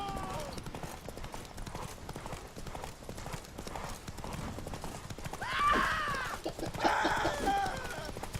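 The horse Roach gallops in The Witcher 3, hooves clip-clopping in a steady rhythm under a voice. A neigh and some shouts rise near the end.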